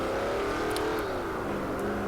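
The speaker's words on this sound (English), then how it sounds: "you just touch the accelerator and it's wheel spin" A car in Forza 4 spins its wheels under throttle, with a continuous loud engine drone that rises slightly in pitch over the short stretch, with no pauses or voices.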